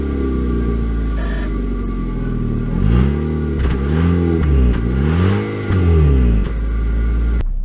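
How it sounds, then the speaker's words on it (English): A 2023 Mitsubishi Outlander SEL pulls away from a stop, its engine note heard from inside the cabin rising through repeated swooping accelerations, steady and fairly loud throughout. "So setting off in the Outlander."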